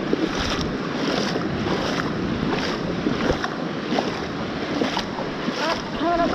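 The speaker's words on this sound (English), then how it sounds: "Walking through some more of the water." Footsteps wading through shallow ocean water at a beach, with steady surf and wind noise buffeting the microphone throughout, sloshing splashes recurring under the constant wash of waves.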